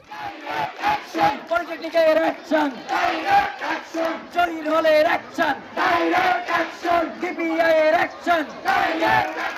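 Crowd of technical students chanting slogans in rhythmic unison at a road blockade of a busy seven-way intersection, loud and close, with repeated call-and-response bursts and no separate talk.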